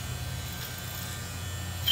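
Electric clippers buzz steadily while fading in a tight flat top haircut at a barbershop, a close, continuous hum with no voices over it.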